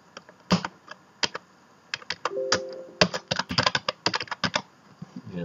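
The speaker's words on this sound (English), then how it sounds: "So I'm just going to type in bikes." Someone types on a computer keyboard in a quiet room: scattered clicks, then denser runs of quick keystrokes, close and fairly soft, with no talking.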